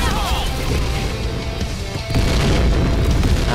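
A grenade blast in the first-person shooter Point Blank booms out amid continuous gunfire and game noise, a loud heavy burst that swells partway through over the dense mix.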